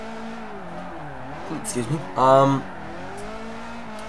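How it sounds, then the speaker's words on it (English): Toyota AE86 Sprinter Trueno with a 4AGE engine in the racing game Forza Motorsport 4, engine tone climbing and dropping through brief revs, with a short squeal burst in the middle and a person speaking over it. "The engine sounds way better than the other 4AGE model."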